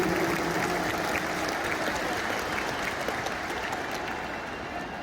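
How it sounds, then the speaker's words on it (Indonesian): Dense, sustained crowd applause at a campaign rally at JIS, a broad hiss-like wash of many hands that slowly fades, with someone briefly speaking over it. "Tepuk tangan untuk semua yang memilih hadir di sini."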